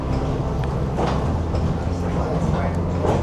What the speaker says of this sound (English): This is the first fully solar powered train in the world.